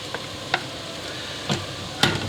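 Crushed garlic is added to sautéed vegetables and half-softened carrot for a cauliflower soup with rice, giving a faint, soft sizzle punctuated by a few light clicks from stirring.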